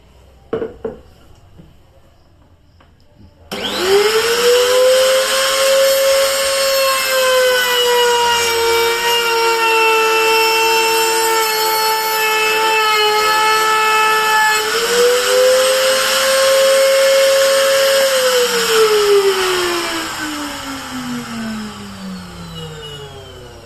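DCK KMP04-6 trimmer router cutting Dutch teak wood: after a few faint knocks the motor starts with a loud steady whine, dips under load while routing, then winds down toward the end.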